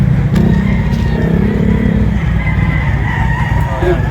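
Roosters crow amid a busy chicken market in Lipa, Batangas, sounding over steady loud crowd and traffic noise with clucking fowl and passing engines.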